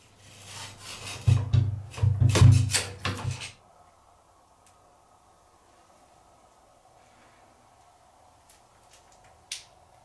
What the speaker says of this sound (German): Da schneiden wir jetzt auch nochmal sauber die Kanten ab.